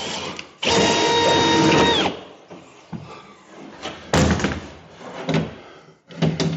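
A drill with a long bit bores through a house wall during electrical rewiring, a loud sustained whine in bursts with knocks and scraping between them.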